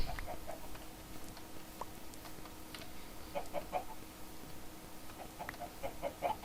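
Soft, scattered clucking of chickens in a survival video game comes and goes in short bursts over a low, steady background hum, fairly faint and distant.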